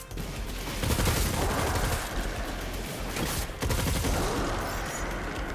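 Tarrabah submachine gun in a video game firing in long rapid automatic bursts, a dense, loud crackle of shots lasting several seconds with only a brief pause midway.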